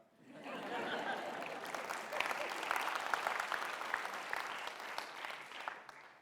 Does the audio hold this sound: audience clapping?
yes